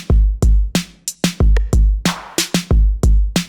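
Punchy drum beat saturated through a Black Box HG-2 M/S plugin, with heavy kicks and crunchy snares in a steady rhythm, loud and distorted, with no voices.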